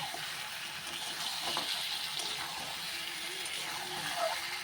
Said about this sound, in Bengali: আমি এখন ভালো করে মশরুমটাকে কষিয়ে নেব